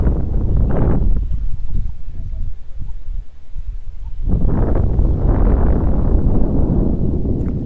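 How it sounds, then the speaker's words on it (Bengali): Wind gusting across the open shore of Topchanchi Lake, a steady broadband rush that fades to a quieter lull midway and then surges back loud and close, buffeting the microphone. "সুন্দর হাওয়া দিচ্ছে, সুন্দর হাওয়া"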